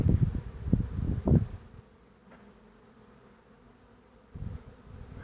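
A honeybee swarm being collected by a beekeeper buzzes, loud at first and then fading to a faint, low drone before growing louder again.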